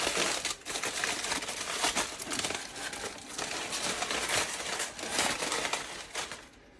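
Foil or wrapping is peeled open from a rack of smoked ribs rubbed with salt, pepper and smoked paprika, a continuous loud crinkling and crackling close by, with no talk.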